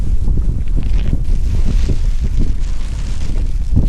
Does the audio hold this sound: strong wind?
yes